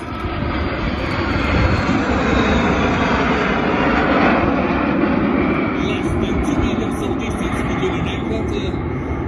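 A Frecce Tricolori MB-339 jet flies low and slow at an airshow with its airbrake extended, giving a loud, sustained engine roar that swells and holds throughout, with a voice talking over it.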